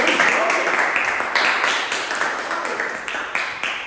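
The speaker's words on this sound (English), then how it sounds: "Give him a round of applause." Audience applause at a live sketch and improv comedy show in a small gallery, a crowd clapping steadily and fading slightly, with a voice speaking over the claps.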